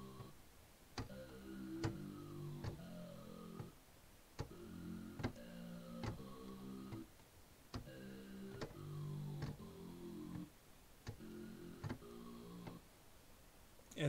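A sawtooth synth run through a formant filter on the Thor synthesizer plays a looping pattern of short, vowel-like chord stabs, with sharp clicky attacks at a steady, syncopated rhythm and no voices.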